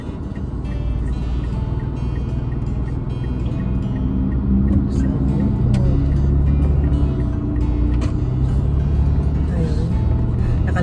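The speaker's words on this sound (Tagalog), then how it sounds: "Madaming mga sasakyan." Road traffic rumbles past on a Saturday or Sunday morning, a continuous low engine drone with vehicles swelling and fading as they pass nearby, the noise heavy and unbroken throughout.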